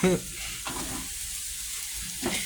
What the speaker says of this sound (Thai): นี่นะหมูสับผัดไปเรื่อยๆนะครับผม